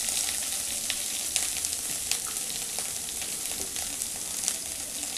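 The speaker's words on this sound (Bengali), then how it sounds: "এবার দিয়ে দিচ্ছি আমি আদা বাটা। আবার নাড়াচাড়া করে নেব।" Cumin paste, ginger paste and spices fry in hot oil in a pan for a curd-and-pumpkin dish, a steady close sizzle with occasional scraping stirs and no talk.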